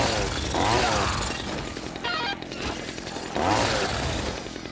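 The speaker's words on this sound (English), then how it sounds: "don't get in the way of my chainsaw, cause I will go crazy" Revving chainsaw buzz from Dead Rising 2, loud and close, swelling in two bursts with a gap between, amid busy crashing game noise.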